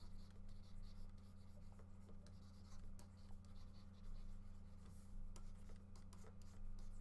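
A pencil sketches a simple character drawing on paper, giving quiet, steady scratching and rubbing strokes close up over a low background hum.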